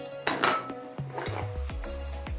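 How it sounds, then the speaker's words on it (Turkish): Chicken and mushroom casserole ingredients tossed together in a wide bowl, with bright clinks and scrapes of a utensil against the dish and a few sharp knocks, close and steady with no talk. "Güzelce karıştırıyoruz."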